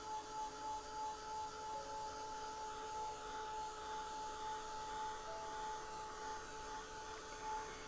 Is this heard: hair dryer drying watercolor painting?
yes